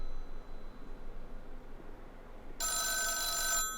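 A telephone rings in the psychological horror game The Town of Light: one bright electronic ring bursts in near the end after several seconds of quiet ambient hiss, then cuts off.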